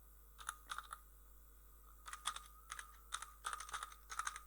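Quiet, close computer keyboard typing comes in short bursts of rapid keystrokes separated by brief pauses, with no voice over it.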